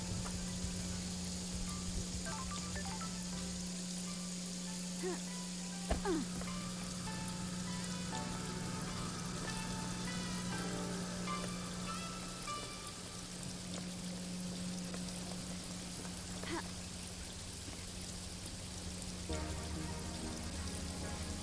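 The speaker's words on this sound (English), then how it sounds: "Oh, it's raining." Steady rain in the vaporwave murder-mystery video game Paradise Killer, a constant wash of falling drops and pattering on surfaces, with a low hum underneath throughout.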